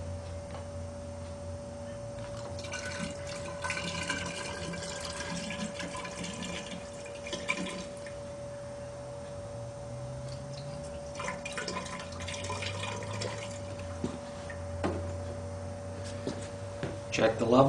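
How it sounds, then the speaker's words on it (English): Liquid poured into the sodium hydroxide side of an HHO welding machine's flashback arrester chamber, a soft continuous trickle with occasional drips and clicks over a steady hum, fairly quiet and close. "Now I'm going to be filling the side that holds the sodium hydroxide chemical."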